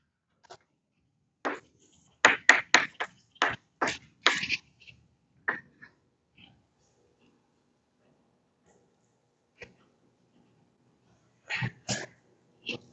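A sneeze rings out in a quiet high school calculus classroom, one of several sharp, close bursts of sound with silent gaps between them.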